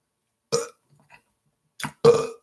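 Three loud, close burps come in quick succession, one short eructation followed after a pause by two more, with silence between them.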